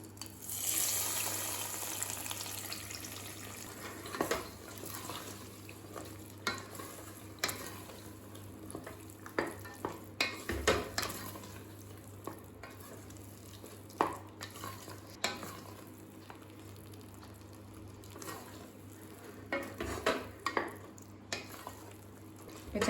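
Fried cashews and raisins are stirred into sweet pongal in a pot, giving scattered scraping clinks of a spoon with a faint sizzle and quiet stretches between strokes.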